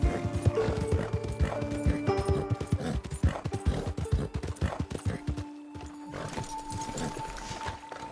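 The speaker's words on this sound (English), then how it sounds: "Fine horse you got there." Horse hooves clip-clop steadily in the video game Red Dead Redemption 2, a loud, close, rhythmic trot with an occasional snort or whinny and brief pauses in the stepping.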